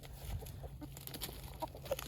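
Soft, scattered clucking from a few chickens outdoors, low-key and continuous, with faint background noise and no talking.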